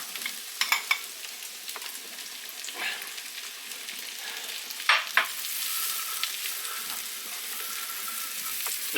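Mushrooms sizzle in butter in a pan with garlic, a steady crackling fry broken by several sharp scraping stirs and clinks, close and fairly quiet with no talk.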